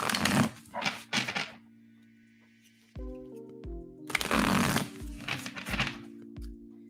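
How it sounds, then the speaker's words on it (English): Tarot cards being shuffled in bursts of crisp riffling, several quick flurries separated by pauses, close and fairly quiet over a soft tonal background. "I'm gonna give these a good shuffle"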